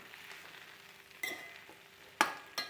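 Batter-coated cauliflower frying for chilli gobi: a steady, soft oil sizzle close by, broken by a few sharp clattering strikes of a utensil against the pan.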